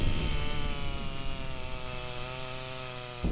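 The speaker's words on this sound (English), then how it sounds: "Here too the chainsaws roar, but for each felled tree, three new ones are planted." A chainsaw runs steadily while felling trees in a managed Amazon rainforest logging operation, its engine a loud, continuous drone that holds at a constant pitch from start to finish with no other sounds.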